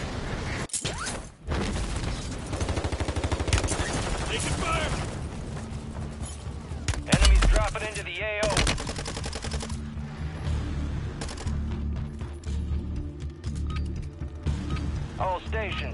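Bursts of gunfire and explosive impacts from Call of Duty: Warzone crackle through a busy game mix, dense early then thinning, with a loud boom midway and voices speaking over parts of it.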